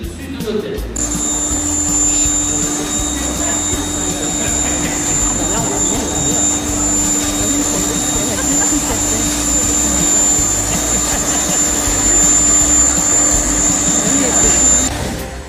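A passenger aircraft's engines roar before takeoff with a loud, steady turbine whine and high-pitched tones, continuous and close for the whole stretch, like sound heard from inside the cabin.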